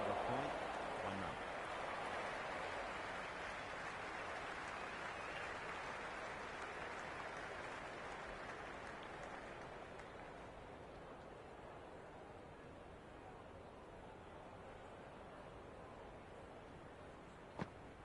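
A crowd at a cricket ground in the Cricket 26 video game keeps up a steady, broad roar of cheering that fades slightly toward the end, with a commentator's voice underneath.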